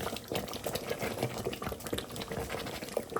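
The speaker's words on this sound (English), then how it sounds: "see what I mean is all bubbles everywhere, see?" Chicken and spinach curry, palak gosht, bubbles in a covered pot, a dense, steady crackle of popping bubbles that runs without a break from start to finish.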